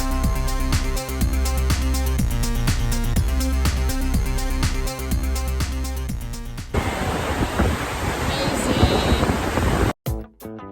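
The roar of Gullfoss waterfall in Iceland, a dense steady rushing wash that takes over after several seconds of music and then cuts off abruptly near the end.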